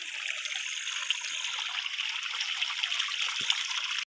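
Water running steadily as containers are filled from a motor pump at a rural home in the evening: a continuous close hiss and trickle, even in level, with no talking.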